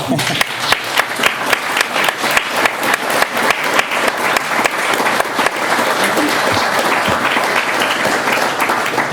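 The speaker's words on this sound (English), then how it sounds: "I think that reading needs a big applause." At a C++ book launch, an audience gives a big round of applause after a reading. Many hands clap in a loud, dense, continuous patter that holds steady throughout, with some voices mixed in.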